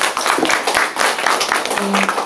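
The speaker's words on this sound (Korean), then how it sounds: "저를 위해서 박수 한번 주세요" A lecture audience at a Korean cosmetics and health-product seminar breaks into brief scattered clapping, a short burst of separate hand claps with some room noise and faint voices mixed in.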